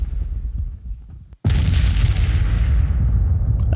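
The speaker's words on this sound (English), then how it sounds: "and then there's the explosion ones." An explosion sound effect fired from a soundboard: a sudden loud boom after a brief dropout, followed by a sustained roaring rumble and crackling debris that fills the rest of the short clip.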